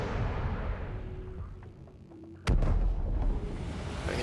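A single heavy sniper rifle shot booms abruptly in the Mass Effect 2 video game, cutting through a low ambient rumble and leaving a sustained loud tail.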